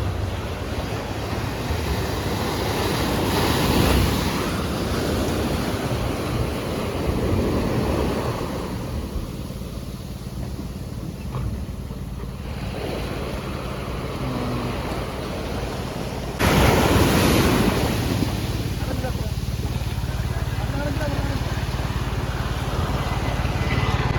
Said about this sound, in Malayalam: കടലടിച്ച് വരും നോക്കി.